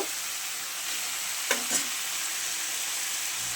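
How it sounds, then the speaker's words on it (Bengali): Katla fish head sautéing with eggplant in a pan, a constant hissing sizzle broken by two quick stirring scrapes near the middle, with no talking. "মাছের মাথাটা দিয়ে দিচ্ছি, কষিয়ে নেব ভালো করে।"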